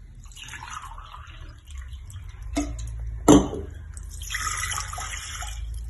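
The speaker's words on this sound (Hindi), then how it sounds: "एक कप पानी डालूंगी" One cup of water poured into a pan for Indian masala chai, a short splashing pour followed by light dripping and trickling, close and moderately quiet in a home kitchen.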